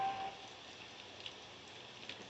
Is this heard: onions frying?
no